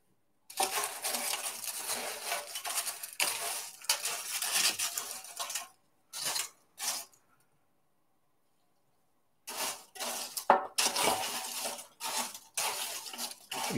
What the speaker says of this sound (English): pour the egg mixture over the bread cubes a little at a time and stir them in